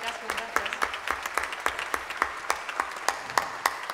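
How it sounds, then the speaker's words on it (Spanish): Sparse, scattered handclaps from a small audience at a Basque music event, quiet and irregular rather than a full ovation, with faint background murmur. "Fuerte aplauso para ella."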